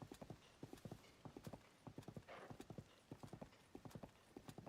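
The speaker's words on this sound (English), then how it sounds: "Let's see where the horse takes me." Horse hooves gallop in rhythmic clusters of clip-clop beats in Zelda: Tears of the Kingdom, steady and close over a soft game background, with a brief breathy whinny-like swell midway.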